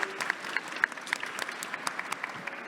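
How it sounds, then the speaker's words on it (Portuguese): An audience at a book-fair panel discussion claps with scattered, uneven hand claps, a light, moderately close applause that goes on for a few seconds. "Uma salva de palmas, por favor."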